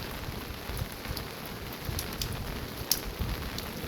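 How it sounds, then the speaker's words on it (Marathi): Steady rain falls in Ratnagiri district, a continuous soft patter with occasional heavier drops, even and moderately loud throughout, no voices. "सकाळपासून पावसाची रिपरिप ही रत्नागिरी जिल्ह्यामध्ये पाहायला मिळते"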